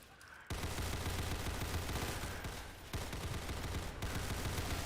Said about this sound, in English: Where does this gunshot sound from?